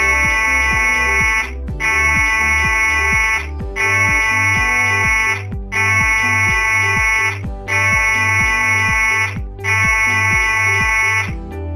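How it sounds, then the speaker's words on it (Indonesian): A loud passenger ship emergency alarm, the abandon-ship signal, sounds in six long, evenly spaced blasts, each a steady buzzing tone with short gaps between, over a low rhythmic background. "Bila Anda mendengar bunyi alarm panjang 6 kali"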